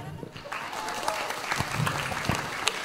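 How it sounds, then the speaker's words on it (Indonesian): Scattered clapping from a small crowd at a local Balinese music performance, uneven and moderately faint, with voices talking over it throughout. "Tepuk tangan."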